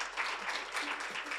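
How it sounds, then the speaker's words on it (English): Steady applause from an audience honouring a junior mayor at a children's rights event, a continuous patter of many hands clapping with no voices over it. "may we please have a hand of applause for our wonderful mayor"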